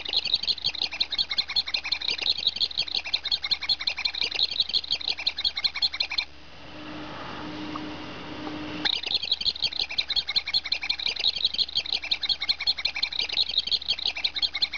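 A Barbie Fairytopia Bibble toy, switched on and squeezed, chirps in fast, bright repeated bursts for several seconds, pauses with a soft vibrating buzz, then resumes its rapid chirping, close and loud.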